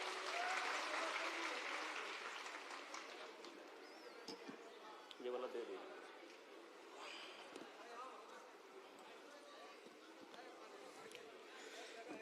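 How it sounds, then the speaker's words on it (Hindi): Loud, sustained audience applause welcoming a district magistrate at a district foundation day ceremony in Kishanganj, steady clapping that gradually tapers while staying strong throughout, with light crowd murmur underneath. "सर का स्वागत जोरदार तालियों के साथ।"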